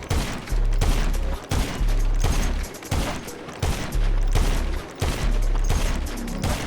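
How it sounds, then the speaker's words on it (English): Rapid sniper rifle shots in GTA Online fire in a steady rhythm, about nine loud booming reports over several seconds, each cracking sharply and then trailing into a low rumble, with no speech. "I'll start off with me showcasing the consistent sniper spam I have with my settings"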